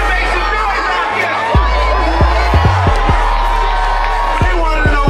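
Dense crowd noise with cheering and whoops at the New Year's Eve Peach Drop in Atlanta, a loud continuous roar from a large outdoor crowd, with scattered louder shouts and a few low thumps.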